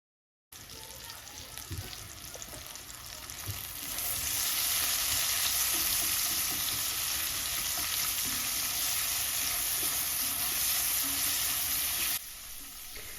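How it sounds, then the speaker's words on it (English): Red onions sizzling in butter in an enameled cast iron pot for tomato soup, a steady, close frying hiss that swells louder after a few seconds and keeps going with faint stirring clatter. "There's just something about the sizzle of onions in butter in a cast iron or enameled cast iron like what I'm using here."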